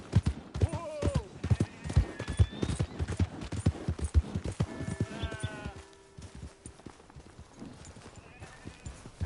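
Horse hooves clip-clop in a quick, steady rhythm close by, with a brief whinny, while voices call out over the hoofbeats.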